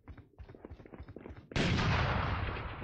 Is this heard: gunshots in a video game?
yes